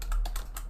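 Quick run of keystrokes on a computer keyboard, five or six crisp close clicks at an uneven, brisk rhythm, heard alone with no voices.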